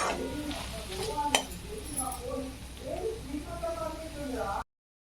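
Onion with ginger-garlic paste is stirred in a hot pan for veg biryani, a soft scrape and sizzle with one sharp metallic clink near the start, mostly under someone talking throughout.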